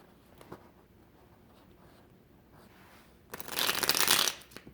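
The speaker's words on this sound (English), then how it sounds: "They need a shuffle." A quiet pause with faint handling sounds, then a loud, quick riffle of a deck of tarot cards being shuffled, lasting about a second.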